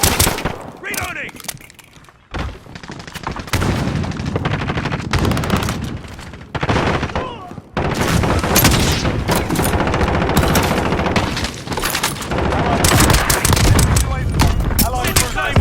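Rapid gunfire crackles in a video game match, bursts of automatic fire and sharp shots coming in dense, repeated volleys with brief gaps, punctuated by booms and game voice callouts.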